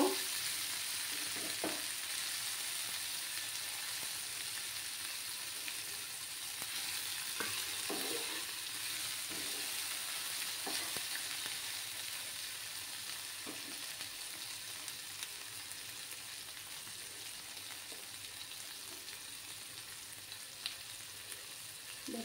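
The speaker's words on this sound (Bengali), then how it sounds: "ভালো করে আদার কাঁচা গন্ধটা না দেওয়া অবধি একটু ফ্রাই করে নেব।" Ginger frying in oil in a pan for a Bengali vegetarian soybean curry, a steady close sizzle and hiss with occasional clicks and scrapes of stirring throughout, no voices.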